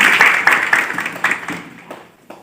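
Applause for a singer at the closing ceremony of a volunteer training program: a crowd claps in a brisk, dense burst that thins out and fades over a couple of seconds.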